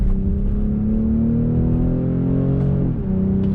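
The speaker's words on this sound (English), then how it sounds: "The shifts are very quick." A 2020 BMW X6 40i M Sport accelerates with a steady, loud engine drone that climbs in pitch, then drops sharply near the end as a quick gear shift happens and the engine pulls again.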